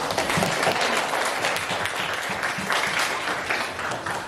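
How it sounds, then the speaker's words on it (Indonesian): Classroom applause from a group of students, a dense continuous clatter of many hands clapping at steady loudness throughout, with no voices standing out. "Oke, tepuk tangan dulu untuk"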